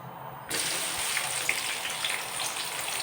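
Onions dropped into hot oil in a kadai for a mutton and jackfruit-seed gravy set off a sudden loud sizzle that keeps crackling and hissing close up, with no talk.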